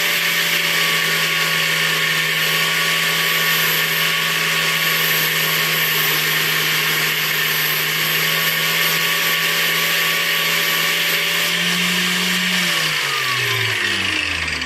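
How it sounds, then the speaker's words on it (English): A grinder cutting metal whines steadily at high pitch with a constant motor hum, running without pause before its tone drops as it spins down near the end. "We got the grinder running."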